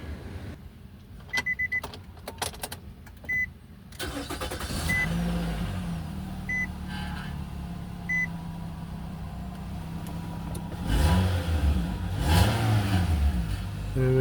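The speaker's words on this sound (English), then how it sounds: "And we go start the car." A 2.5-litre Nissan Rogue engine, repaired for a cylinder 4 misfire, cranks and catches, then idles steadily with a low hum, rising in a couple of louder revs near the end.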